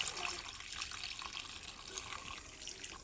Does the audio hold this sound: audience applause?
no